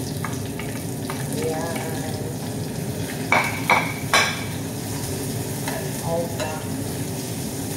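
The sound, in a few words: sautéing onions in a pan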